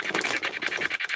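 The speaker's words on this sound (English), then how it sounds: "You're going to hear the bag for the treats of the doggy treat." A bag of dog treats crinkles and rustles in quick, close, irregular scratchy bursts for a moment.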